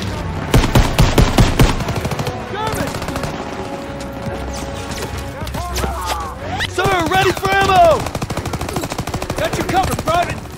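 Rapid machine-gun and rifle bursts crackle through a Call of Duty battle set in World War II's Operation Cobra, with shouted commands and voices over the firing and repeated volleys toward the end.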